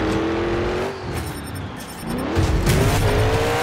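The Thunder Roars monster truck from Monster Jam Showdown roars around a racing course, its engine droning steadily and rising in pitch as it accelerates, with a tire squeal and a throttle surge near the end.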